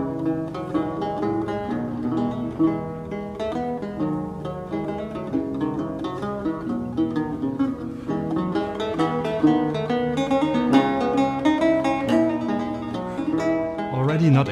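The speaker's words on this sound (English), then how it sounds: "there's already a French chacon that sounds like this." Baroque French chaconne played by a small instrumental ensemble, a steady dance rhythm over a repeating bass line, full and continuous with no talking.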